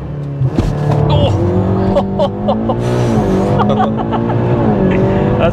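A stage 2+ tuned Audi S3 8P making 362 bhp accelerates hard, its engine note sweeping up through the gears as a loud, continuous roar close by, with possible exhaust pops at the end.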